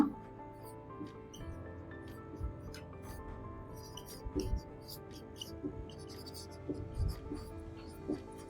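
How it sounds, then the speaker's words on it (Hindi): A pen or chalk scratches and taps in short bursts as someone writes in a classroom lesson, quiet and close, with someone talking softly at times between strokes. "एक सेकंड में थोड़ा क्लियर लिख दूंगा"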